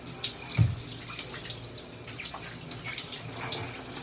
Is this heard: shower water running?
yes